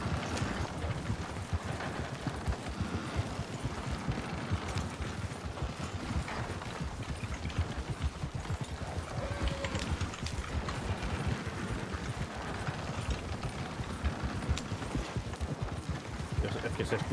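Hooves clop in a steady rhythm under the rattle and creak of a horse-drawn carriage's metal fittings in the Red Dead Redemption RedM video game, a continuous moderate-level roll with voices talking over it.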